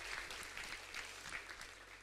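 A church congregation gives a faint, steady round of applause at a Sunday worship service.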